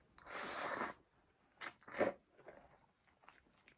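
Natto and raw egg over rice eaten late at night, heard as a close, quiet burst of bites and crunchy, sticky chewing sounds followed by a few softer mouth noises, with no talking.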